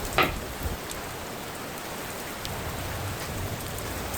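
Rain falls steadily outside a garage, an even hiss of drops on surfaces with a brief clatter near the start and no speech.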